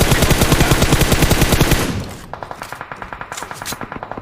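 Automatic gunfire in PUBG Mobile on the Erangel map, a loud rapid burst of shots up close, then a quieter, steadier string of rounds that sounds further off.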